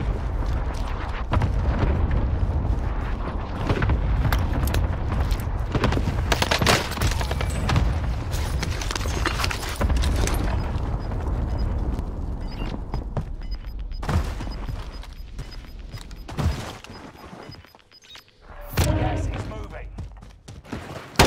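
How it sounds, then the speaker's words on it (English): Cluster airstrike in a video game: a dense, continuous barrage of booming blasts and gunfire rolls on for most of the stretch, briefly dropping away near the end before resuming, with occasional speech mixed in. "Got your request. Cluster strike is active."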